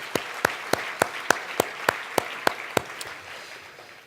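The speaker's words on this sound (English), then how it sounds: "So I think we give him another round of applause." About ten evenly spaced claps ring out at an awards gala, sharp and distinct like one person clapping slowly, then trail off into quiet room noise.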